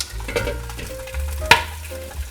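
Milkfish fillets fry in hot oil in a pan, a steady close sizzle broken by a sharp spattering pop near the middle and lighter crackles after.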